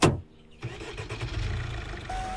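A vehicle engine in the survival game HumanitZ cranks and catches, then settles into a steady mid-pitched running hum, fairly loud and alone with no talk.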